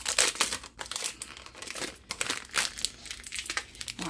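A label is ripped off a container up close, crackling crinkles and tearing rasps in irregular bursts with no voices.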